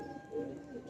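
Soft, low cooing from a young pigeon being trained, a faint murmuring coo that rises briefly midway and then settles under a steady background hum.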